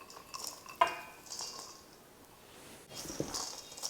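Flour, spices, breadcrumbs and walnuts get stirred together in a large bowl, giving soft scraping and rustling strokes with a few light knocks of the utensil against the bowl, close and fairly quiet.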